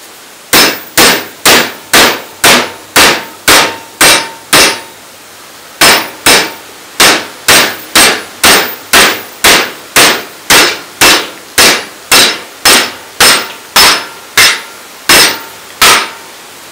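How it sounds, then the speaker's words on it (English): A sledgehammer striking metal bars clamped in a vise, sharp ringing clangs in an even rhythm, about two dozen close, loud blows with one short pause before the pounding resumes. "Now you're going to hit both sides of this with that sledgehammer."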